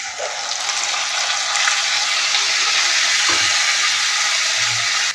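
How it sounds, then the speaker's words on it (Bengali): Onion frying in a pan while cooking an egg curry (dim bhuna), a steady, fairly loud hiss and sizzle of hot oil throughout, with a couple of soft knocks near the end. "পেঁয়াজটা একটু ভাজি হওয়ার পরে এখানে আমি অন্যান্য মশলাগুলো অ্যাড করব"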